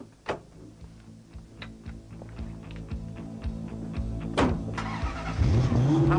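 An Aston Martin Vantage, a heavy, very powerful production supercar, idles close by with a steady low engine hum and ticking, then starts and revs harder toward the end, growing louder and rougher.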